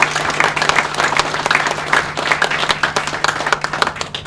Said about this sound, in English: Let's please give a round of applause for these two new sponsors